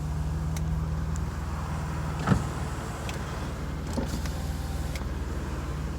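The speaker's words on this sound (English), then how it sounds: "Windows all work." Power windows on a 1991 Mercedes 190E whir as electric motors run, a steady close hum with a few clicks and thumps as the glass moves and stops.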